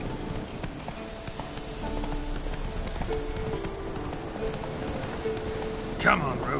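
Horse hooves clip-clop at a gallop in a PS4 video game, a steady rhythmic pounding under rain-like ambience with a person speaking over it, and a brief louder burst near the end.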